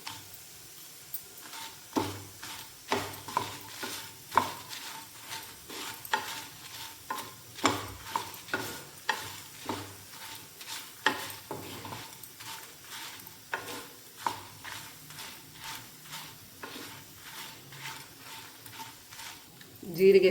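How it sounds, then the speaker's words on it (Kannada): Dried Byadgi chillies frying in a pan with coriander for a hog plum modduli, steady soft sizzle under repeated stirring clicks and scrapes of a spoon, close and fairly quiet throughout. "ಒಂದು ಮುಷ್ಟಿ ಒಣಮೆಣಸು ತೊಗೊಂಡಿದ್ದೆ, ಅದು ಸೇರಿಸ್ತೇನೆ"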